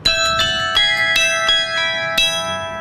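Carillon bells in a bell tower ring out a quick run of loud, clear strikes about every half second, each tone humming on and overlapping into a rich, sustained chime with no voices.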